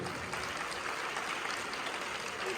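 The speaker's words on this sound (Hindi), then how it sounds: "तो इनकी विल पावर के लिए आप सब जोरदार" Continuous, fairly faint applause from an audience at a beauty pageant event fills the whole short stretch without pause.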